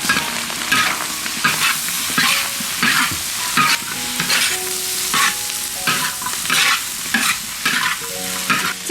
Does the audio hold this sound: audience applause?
no